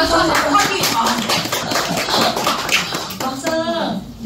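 Audience at a Korean book concert applauding, a steady patter of clapping hands filling the room, with a voice speaking over the middle and end.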